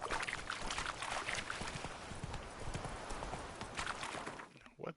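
Roach the horse trots along in The Witcher 3, hooves clip-clopping in a steady, busy rhythm against a dense game soundscape, the hoofbeats close and continuous before stopping abruptly near the end.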